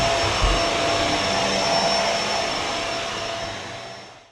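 Vacuum cleaner running on carpet after a chemical-free carpet cleaning, a steady loud whirring motor roar with a high whine that holds constant, then winds down and fades at the end.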